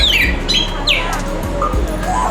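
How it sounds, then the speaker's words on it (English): Several grey parrots squawk and whistle in sharp, rising and falling calls over a low background hum, close by and overlapping, in a zoo aviary. "There we see a flock of grey parrots enjoying on the ground,"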